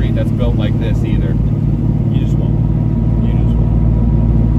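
A 1970 split-bumper Camaro pro-touring car with an LS1 V8 accelerating gives off a loud, steady low engine rumble that holds through the whole stretch, with indistinct voices murmuring beneath it.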